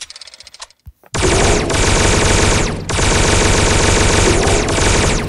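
Rapid continuous automatic fire from the Fortunate Steam Eye rifle in the Cops N Robbers video game, a few sparse shots first and then a dense, loud sustained burst with one brief pause.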